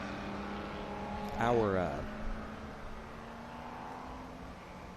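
Race cars, including a BMW, a Corvette and a Porsche, sweep past on a circuit at Barber in one rising, fading engine pass, while commentators talk over a steady background hum.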